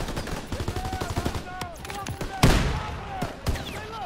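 Shotgun fire in Call of Duty WW2 gameplay, scattered sharp blasts amid busy battle noise and overlapping shots, one heavy close boom standing out midway, with other gunfire continuing around it.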